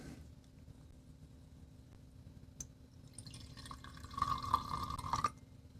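Ethanol is poured into a container while blending perfume, a faint liquid trickle that swells into a brighter, steady stream over the last two seconds before stopping abruptly.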